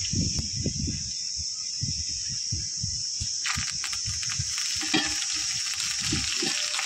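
Oil sizzles steadily in a pan over a wood-fired chulha as coriander is tossed onto fried garlic for rustic kanduri mutton, with a bright continuous hiss and low rhythmic stirring scrapes throughout.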